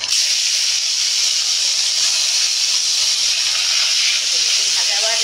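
Onion sizzling steadily in hot oil in a frying pan while Bengali-style anchovy (amudi fish) curry is cooked, a loud continuous hiss filling the whole stretch without pause.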